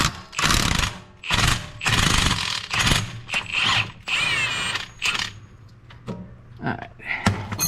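A ratchet tightening bolts during repair work on a John Deere Gator XUV 855d utility vehicle, heard as several loud bursts of rapid clicking with short pauses between them, then fainter mechanical clatter toward the end.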